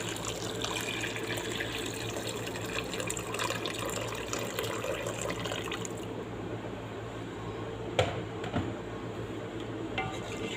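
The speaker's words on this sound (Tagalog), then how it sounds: "lagyan ko na siya ng mainit na tubig." Hot water poured steadily into a pot of chicken, a continuous close splashing gush lasting throughout, with a brief clink partway and no talking.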